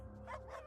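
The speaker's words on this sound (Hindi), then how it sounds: "दूर कहीं कुत्ते भौंक रहे थे।" A dog barks once or twice in a short, muffled burst, heard at some distance on a quiet night rooftop, without talk.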